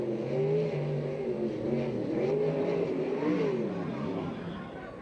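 A USAC/CRA sprint car engine roars steadily around the track at an Alger, Washington race, loud and close for the whole stretch, its pitch rising and dipping through the lap.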